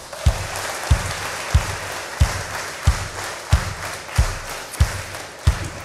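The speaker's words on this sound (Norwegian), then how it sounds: "Gi han en god applaus." Applause from a church concert audience for the drummer, a broad wash of clapping under a steady, evenly spaced low thump that beats about once every two-thirds of a second.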